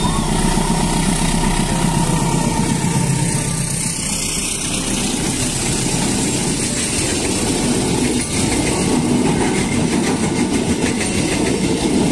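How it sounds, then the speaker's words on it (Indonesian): A train rumbles past nearby in Pekalongan, Indonesia, a loud continuous roar of engine and rolling wagons holding steady throughout, with no voices. "di depan sana akan ada kereta api yang lintas ini dari arah stasiun Pekalongan"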